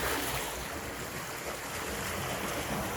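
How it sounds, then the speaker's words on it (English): Steady rushing water flows without a break, a broad wash of noise from a fast canal nearby on a walk in Bali, with no voices. "The water rushing."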